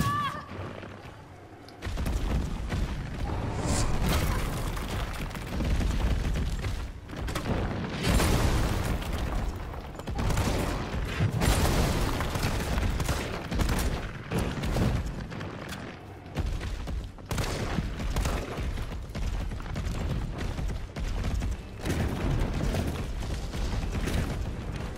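Shots and heavy impacts ring out in Resident Evil 3, a dense, nearly nonstop barrage of bursts and booms layered over game noise, with a player talking at times.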